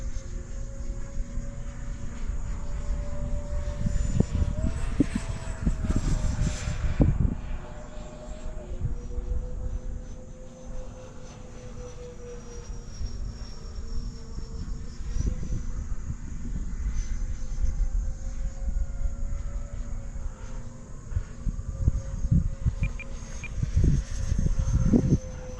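A radio-controlled jet-style model airplane at half throttle drones steadily overhead, its whine rising and falling as it passes, with gusty wind buffeting throughout.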